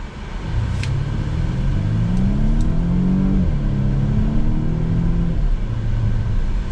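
A 2020 Volvo V60 accelerates at full throttle from a stop, engine note climbing steadily in pitch through a gear change, moderately loud under road and cabin noise with a few faint clicks.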